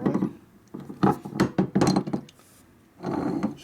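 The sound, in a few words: tapping on motorcycle brake drum rivets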